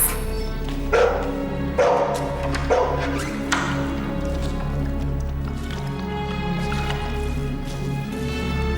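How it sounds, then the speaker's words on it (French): A few sharp puppy barks ring out at intervals over a steady low hum and background sounds, moderately loud, then the yelps fade into the droning ambience. "Mauvais traitement sur un chiot. Et Prince? Vous entendez? C'est sûrement lui"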